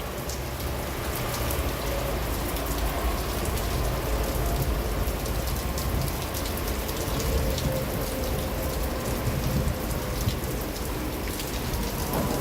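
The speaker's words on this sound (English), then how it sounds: "Yeah, that's a lot of rain up ahead, over in that area." Heavy rain pours steadily during a severe thunderstorm at night in Stockbridge, Henry County, Georgia, a dense continuous hiss of drops on surfaces with no voices.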